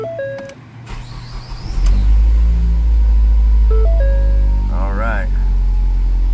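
A 2012 Ford Focus engine cranks and catches, settling into a loud, steady idle rumble after about two seconds of quieter car noises and beeps, with a voice heard briefly.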